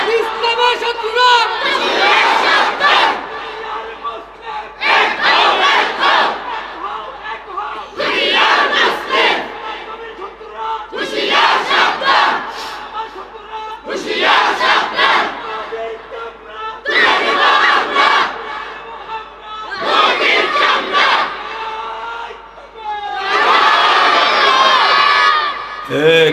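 A large crowd at an outdoor religious gathering chants in loud, repeated unison bursts, around eight roaring shouts spaced every few seconds with brief gaps between them.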